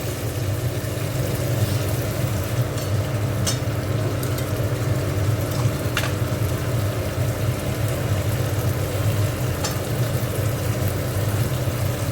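Spice paste with ground cashews sizzling steadily in hot oil while being fried for a vegetarian cauliflower roast, a continuous dense crackle and hiss with a low background hum.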